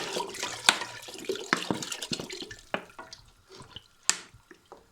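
Water pours into a cooking pot for chorba soup, giving a splashing, gurgling stream with a few sharper drips and bursts, close by and fairly soft, with no talking.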